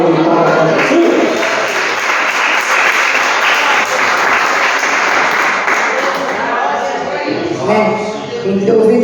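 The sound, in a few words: church congregation applause and cheering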